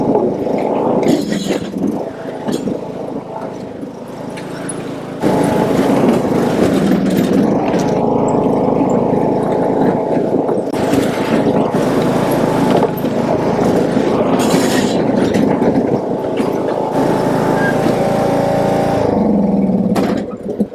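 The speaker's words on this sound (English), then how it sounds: "we're going to run over a whole bunch of wood dowels" A 2011 John Deere D100 riding lawn mower drives over a pile of 4x4-size wood dowels. Its engine drones loudly and steadily, with abrupt jolts and shifts in pitch as it rolls over them.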